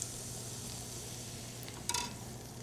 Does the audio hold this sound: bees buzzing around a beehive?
no